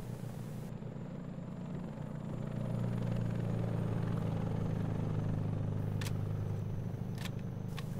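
A helicopter in the video game ArmA 3 drones steadily as it arrives, its low rotor hum swelling louder over several seconds, with a few sharp clicks near the end.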